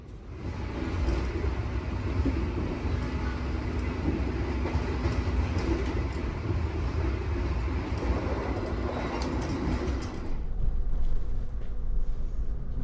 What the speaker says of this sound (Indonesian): Jam 16:28 kita memasuki stasiun Surabaya Pasar Turi.